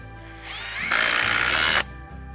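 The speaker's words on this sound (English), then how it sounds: "We're using the GRK structural screws. These are the 5/16 by 4." A power drill drives a GRK 5/16 by 4 inch structural screw into the timber of a sawmill shed, a loud steady whine that builds and holds for about a second before cutting off. There is no talk.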